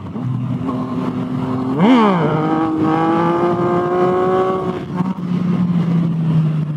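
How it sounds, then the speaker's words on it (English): A motorcycle engine revs sharply upward for a wheelie, then holds a loud, steady whine for a few seconds before easing off, close by. "Just had to pop a quick wheelie for the man"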